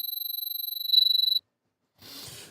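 Synthesized sci-fi tone built in VCV Rack: a steady high pulsing whine with a rapid tremolo flutter that swells briefly, cuts off, then a short burst of noisy hiss follows after a gap of silence.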